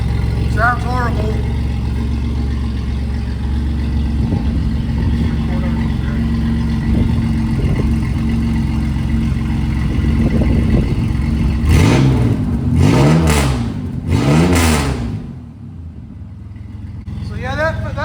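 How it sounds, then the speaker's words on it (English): A 2000 Chevy Camaro engine runs with the muffler removed, a loud, raw exhaust drone that holds steadily and then rises in several sharp revs near the end, with a person talking over it at times. "This is without the muffler."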